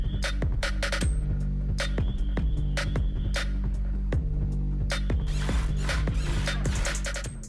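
A ratchet wrench tightens exhaust clamps on a Borla catback with quad tips fitted to a 2018-2019 Ford Mustang GT, giving a dense run of rapid clicking strokes with brief pauses, close and loud, no talk.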